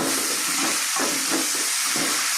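Dry red chillies, cumin seeds and curry leaves dropped into hot oil after garlic, giving a loud, steady, close sizzle and hiss with no talking.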